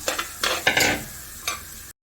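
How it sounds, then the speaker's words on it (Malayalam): Crushed shallots and curry leaves sautéing in a pan for fish-head curry, a close sizzle broken by a few sharp stirring scrapes, ending abruptly. "കൊച്ചുള്ളി ചതച്ചതും കൂടെ ഇട്ട് കൊടുക്കാം കുറച്ച് കരിയേപ്പറ്റയും കൂടെ നന്നായിട്ട് വഴറ്റിയെടുക്കാം"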